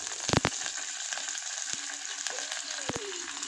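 Cumin and curry leaves sizzle in hot oil for Telangana-style sambar, a steady close frying hiss broken by a few sharp metallic stirring clanks.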